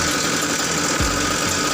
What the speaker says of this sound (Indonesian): Ini terlalu kencang suara motornya